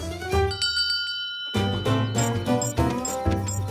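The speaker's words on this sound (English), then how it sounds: "Yeah, I know the bell sounded like it's that way" A bell rung at a race checkpoint in a cartoon, heard as bright ringing tones over a sustained musical backdrop, with a pause and then repeated chiming strikes.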